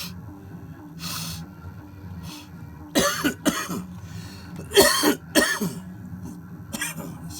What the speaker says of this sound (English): This cough is driving me bananas.